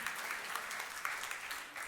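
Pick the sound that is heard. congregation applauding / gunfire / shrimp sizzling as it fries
congregation applauding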